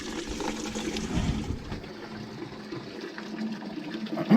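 Water draining from the back valve of a steam radiator into a bucket, a steady close trickle and splash that rises slightly near the end.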